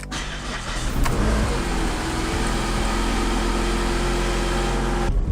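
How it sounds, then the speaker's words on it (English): Worn, completely shot sway bar bushings on an older daily-driver car clunking while it drives, the thumps sitting inside a steady, loud engine and road drone that carries on without pause throughout. "it's clunking really bad, and I'm pretty sure it's just because the sway bar bushings are completely shot."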